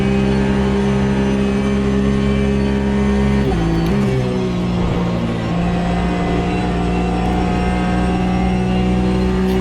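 A race car engine in the racing video game Automobilista 2 drones loud and steady through a lap, its pitch dipping briefly as the car shifts or brakes mid-lap, then climbing again. No one speaks.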